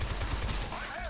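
Rapid bursts of gunfire from the video game Shadow Complex crackle in a dense, continuous stream for about a second.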